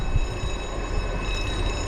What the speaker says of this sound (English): here comes our final train